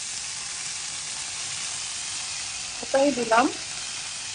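Ginger garlic paste sizzles in hot oil for a button mushroom dish, a steady close hiss throughout, with a short spoken phrase near the end.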